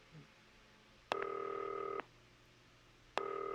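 Ringing tone of an incoming telephone call in a video game: two steady electronic tone bursts, the first lasting about a second and the second starting after a pause, clear and alone over low background hum.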